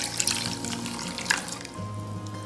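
Water poured into a cooking pot for a vanilla wafer recipe, a soft, close splashing and trickling stream lasting the whole short moment.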